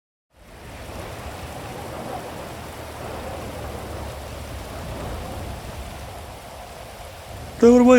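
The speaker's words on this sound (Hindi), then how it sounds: "बारिश का मौसम बना हुआ है, क्या ज़बरदस्त मौसम हो रहा है" Steady rain pours in an open-world crime game, a broad even hiss with a low rumble like distant thunder, running alone and unbroken until a louder burst at the very end.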